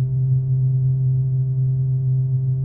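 A steady synthesizer sine tone hums on continuously with a faint layer of noise beneath it, even and unbroken throughout.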